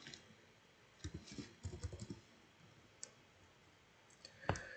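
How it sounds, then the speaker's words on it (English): Quiet typing on a computer keyboard, two short bursts of soft key clicks followed by a single firmer keypress, close and faint over a low background hiss. "I'm going to choose, let's see, orange, and I'm going to just type purple."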